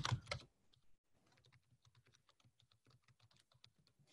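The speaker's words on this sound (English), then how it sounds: "use the title of the newspaper as keywords and type them into the search bar." Rapid keystrokes on a computer keyboard, a steady run of soft, close clicks after a brief louder clatter at the start, quiet and with no voices.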